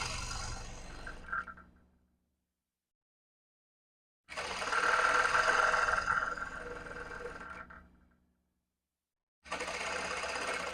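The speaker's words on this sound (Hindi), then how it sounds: "उसके बाद आप यहाँ पर सिलाई लगाए" An electric sewing machine stitches a salwar in three separate runs of rapid, close mechanical whirring, with a longer burst in the middle and quiet pauses between them.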